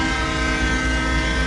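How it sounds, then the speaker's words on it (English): A train horn in a train-driving video game blows one long, loud, steady whistle that holds a constant pitch over the rumble of the train. "I just love the whistle. That's the best horn I heard in the game all the time."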